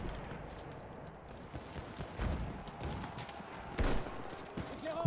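Bursts of submachine-gun fire from a Hellriegel in Battlefield 1, rattling through a busy, noisy game mix with a louder volley near the end.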